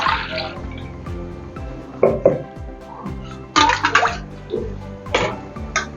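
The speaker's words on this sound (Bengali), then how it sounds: "এবার যে মিক্সিটাতে আমি বেটেছিলাম সেইটারই একটুখানি ধুয়ে একটুখানি জল দিয়ে দেবো একটু সিদ্ধ হওয়ার জন্য।" Rinse water splashes and sloshes as it is poured from a mixer grinder jar into a cooking pot of butter chicken, in several bursts over a steady low background hum.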